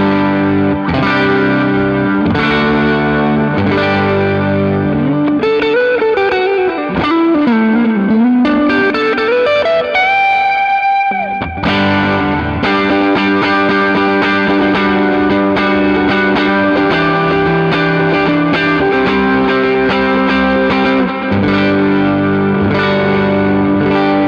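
An electric guitar on its neck pickup plays through a Kinky Boost pedal, giving a driven, distorted tone with chorus-like shimmer. Chords and sliding single-note lines ring loud and alone, with a brief pause midway.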